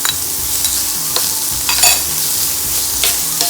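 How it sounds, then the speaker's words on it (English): Onions, chopped ginger and garlic fry in a pan for methi matar malai, a loud, steady sizzle with repeated stirring scrapes close by and no voices. "Now I am adding onions, chopped ginger and garlic,"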